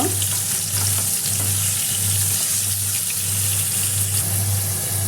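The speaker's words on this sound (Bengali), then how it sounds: "আলু পেঁপেটা একটু ভালো করে ভেজে নেব" Potato and papaya pieces with salt and turmeric fry loudly and close in hot oil, a dense, even sizzle that holds steady, with a low pulsing hum running underneath.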